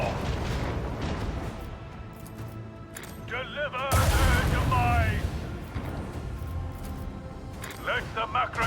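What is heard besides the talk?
macro cannons firing in the video game Warhammer 40k Rogue Trader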